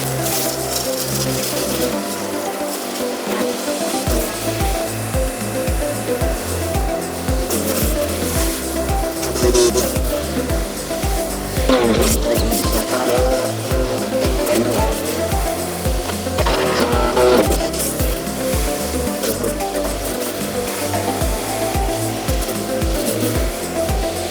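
A PROCRAFT garden branch shredder grinds through branches, a steady loud mechanical churn with intermittent crunching and rising bursts as wood feeds in.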